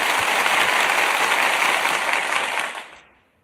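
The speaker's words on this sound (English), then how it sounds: "let's get a round of applause for everybody" Dense applause sound effect played during a livestream: a steady, loud wash of many hands clapping that holds evenly for a few seconds, then fades away to silence.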